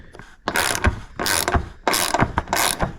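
A ratchet loosens a 12mm bolt on the plastic shroud of a 2010 Subaru Forester, giving four quick bursts of close, crisp clicking with short gaps between strokes.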